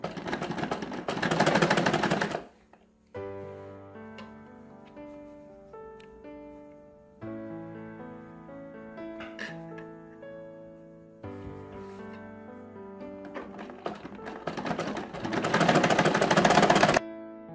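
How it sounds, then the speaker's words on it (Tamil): A sewing machine stitches pleats into a school uniform skirt, with steady mechanical whirring runs and brief pauses between them, louder bursts at the start and end, and no talk. "இப்போ ஃப்ளீட்ஸ் வச்சு தச்சாச்சு."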